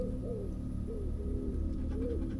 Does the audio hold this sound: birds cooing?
yes